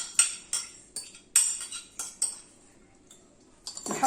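A knife chops an onion on a kitchen board in a series of close, sharp taps about every half second, pausing briefly before a quicker cluster at the end.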